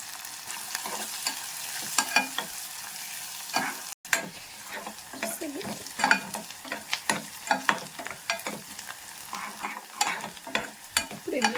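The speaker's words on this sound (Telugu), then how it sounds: "ఆనియన్స్ కూడా మనకు బాగా ఫ్రై అవ్వాలి మంచి కలర్ వచ్చేంత వరకు మనము వేయించుకున్నామండి" Onions fry in a pan for a bitter gourd curry while a spoon stirs them repeatedly, giving rhythmic scraping strokes over a low sizzle, close and fairly quiet, with a brief gap partway through.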